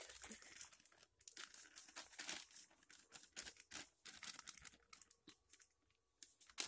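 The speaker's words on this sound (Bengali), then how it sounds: "এখানে এখন আটা একটুখানি চালিয়ে নেব।" Wheat flour (atta) being sifted through a sieve, heard as a close, continuous run of soft scratchy, rustling taps and crinkly bursts with brief pauses between shakes, without any talking.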